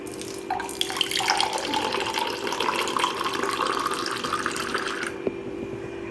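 Water pours steadily into a bowl of gram flour batter being mixed by hand for potato bhaji, a continuous close splashing stream for about five seconds that stops abruptly.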